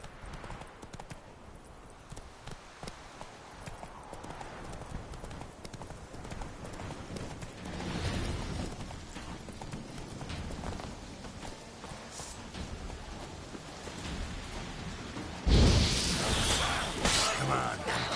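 Hoofbeats from Roach, a horse in The Witcher 3 game, clop steadily and close through the whole stretch, with a sharp crash near the end and some talk mixed in.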